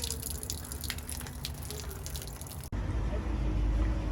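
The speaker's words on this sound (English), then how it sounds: "The trailer's letting the water out." Meltwater drips and trickles off a thawing trailer outdoors in winter, a faint steady patter with no talk, shifting to a louder, duller wash of noise near the end.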